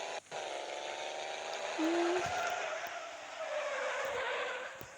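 Tires squeal in a long, steady skid as a car slides through a turn in a racing video game, loud and continuous over a sustained engine drone, with no talking.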